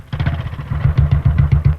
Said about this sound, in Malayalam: അവിടെ ബൈക്ക് സ്റ്റാർട്ട് ചെയ്ത ശബ്ദമാ